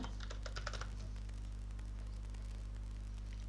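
Keys tapped on a computer keyboard while typing a search, a quick burst of clicks in the first second over a steady electrical hum, then only the faint hum for the rest.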